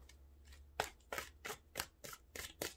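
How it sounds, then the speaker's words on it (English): Tarot cards are shuffled close up in a rapid series of crisp riffling bursts about every quarter second, dry and papery over a faint low hum, with no talking. "that shuffle didn't go well at all"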